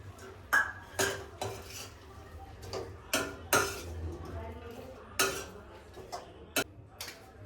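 Metal utensil clinks and scrapes against a pan as Manchurian balls and spring onion are added and stirred, sharp irregular clatters spaced a second or so apart over a faint steady hum, close and moderately loud.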